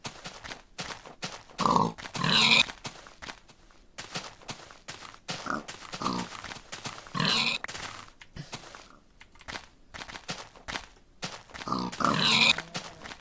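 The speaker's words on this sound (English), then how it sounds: "I need to kill some more pigs" Pigs in an early 2010s alpha build of a blocky sandbox video game, repeated close grunts and oinks in irregular bursts, fairly loud, with faint background noise between them.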